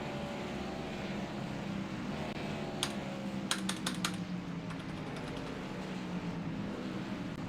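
Keystrokes clatter on a computer keyboard in a short irregular cluster, a few sharp clicks then a quick burst, set against a steady engine drone from an iRacing NASCAR race at Sonoma.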